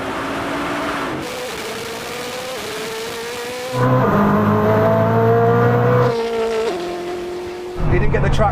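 A Bugatti Chiron Super Sport and a Koenigsegg Jesko drag race with loud sustained engine roar and shifting pitch, separate surges of acceleration as gears change, and an excited voice over it.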